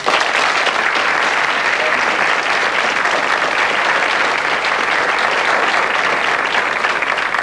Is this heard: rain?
no